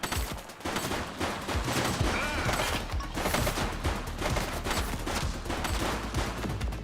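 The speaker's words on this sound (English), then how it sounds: "He's shooting!" Sustained heavy gunfire in The Precinct, a police video game, with loud, dense, continuous shots and bursts over several seconds and no talking.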